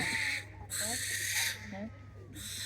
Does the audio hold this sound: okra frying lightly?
no